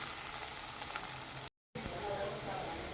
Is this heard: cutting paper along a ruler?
no